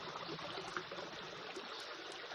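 Soft, continuous babble of a small stream trickling nearby on a farm in Mindoro, quiet and steady with no talking.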